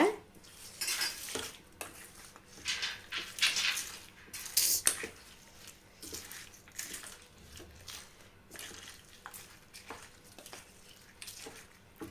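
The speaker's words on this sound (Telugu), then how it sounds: "ఇప్పుడు ఈ తాలింపు పచ్చళ్ళలో మొత్తం కలిసేటట్లు కలిపేసుకుంటే సరిపోతుందనమాట" A spoon scrapes and clinks against a metal vessel as tempering is stirred into gongura (sorrel leaf) pickle, with irregular scraping strokes and soft knocks, close by, no voices.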